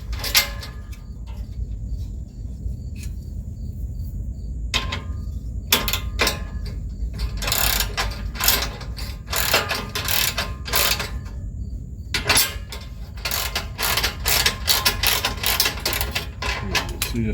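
A ratchet snugging up skid plate bolts during an install: repeated quick clicking bursts with short pauses between them, close and clear over a low mechanical rumble.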